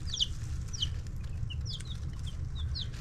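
A young hen in a chick bin gives a handful of short, high chirps and clucks, scattered across a few seconds over a low, steady background rumble.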